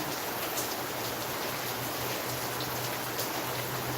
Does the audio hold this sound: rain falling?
yes